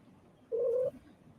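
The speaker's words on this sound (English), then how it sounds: "Don't mind the cat purrs." Cat purring or chirping indoors, one short faint tonal trill of about half a second against a quiet room background.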